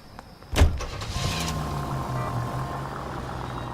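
A car in the L.A. Noire video game starts up with a sharp thump, followed by a steady engine hum and road rumble as it drives off. The sound is close and continuous, with no talking.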